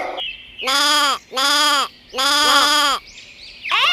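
A goat bleats three times in long, wavering cries, each loud and close, with a short pause between them.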